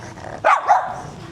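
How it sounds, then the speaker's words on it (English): A dog lets out two quick, loud barks close by, the first sharper and the second a little longer, with quiet background around them. "before we got violently interrupted by the dog barking"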